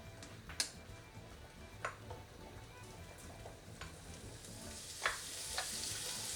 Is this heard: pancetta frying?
yes